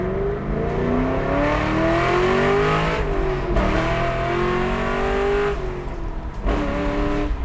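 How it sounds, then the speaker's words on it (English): 2011 Camaro SS convertible engine revs hard toward redline, a loud sustained roar climbing in pitch through repeated gear pulls with brief dips between. "let's open this thing up a little bit. I don't know how it's set up for red line,"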